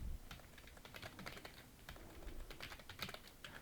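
Fingers tap rapidly on a computer keyboard, a steady flurry of light clicks with occasional heavier keystrokes, close and quiet with no voices.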